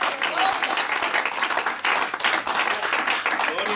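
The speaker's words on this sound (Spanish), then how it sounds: "Denle un aplauso, por favor" A church congregation claps loudly for God's name during a sermon, dense uneven applause with surges and dips, with some voices mixed in.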